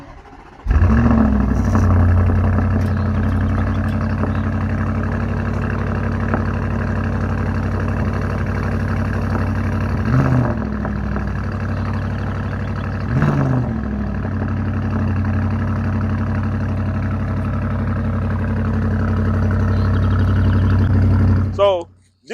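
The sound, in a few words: Audi SQ7 exhaust note while idling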